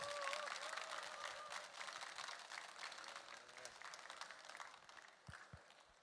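An audience applauds at a Buddhist lecture on the Heart Sutra, a dense wash of clapping that fades down over several seconds, with some crowd noise and brief voices mixed in.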